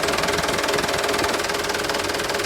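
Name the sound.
used truck engine running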